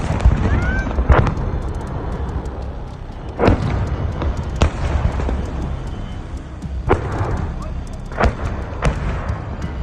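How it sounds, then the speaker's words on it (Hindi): Hezbollah rockets fired at Israel's Meron settlement, with several sharp, loud booms and blasts spread unevenly through a rumbling, noisy background, as in war news footage. "हिजबुल्लाह ने इजराइल के मेरॉन सेटलमेंट पर 50 से ज्यादा रॉकेट दागे हैं।"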